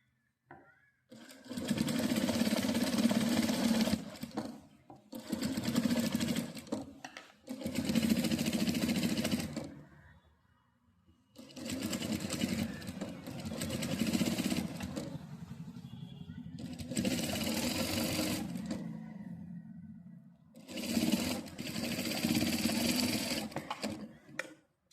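A sewing machine stitches a blouse neckline in several close, fast whirring runs of a few seconds each, separated by brief pauses as the fabric is turned.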